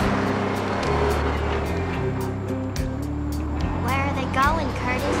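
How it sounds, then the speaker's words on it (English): A truck's engine rumbles as it circles a gas station in the film Maximum Overdrive, its low drone rising and falling in steps beneath talking voices. "we get the image of the truck circulating the gas station"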